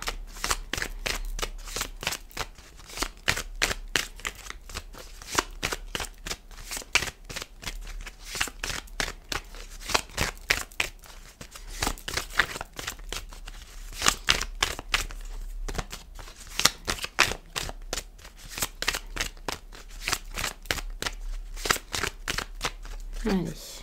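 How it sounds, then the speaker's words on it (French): Oracle cards being shuffled for a card reading, a long, steady run of quick crisp riffling and slapping card sounds, close and fairly loud, keeping an even rhythm throughout. "on va faire un tirage avec l'oracle des miroirs"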